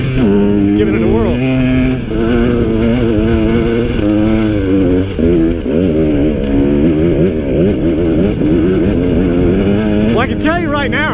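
KTM 150 XC-W two-stroke dirt bike (2017) climbing a steep, rocky hill, its engine droning and revving continuously up close, with someone talking over it throughout.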